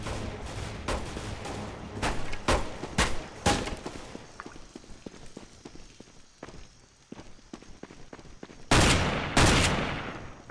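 Shotgun blasts from Counter-Strike: Global Offensive: a run of loud, sharp booms spaced about half a second apart, then quieter in-game footsteps and clatter, and two more heavy blasts near the end.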